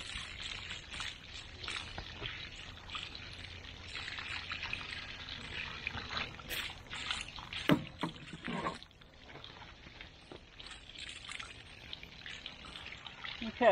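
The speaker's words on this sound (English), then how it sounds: "I'm gonna hose all this off right here, get it clean." A garden hose sprays water over banana plant pups and corms to clean them, a continuous hissing splash with uneven bursts, close and fairly quiet, with no talk.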